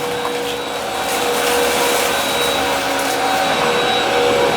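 A Hoover WindTunnel All-Terrain vacuum cleaner runs on its low setting over a hardwood floor, giving a steady, loud, continuous whirring drone close by with no pauses.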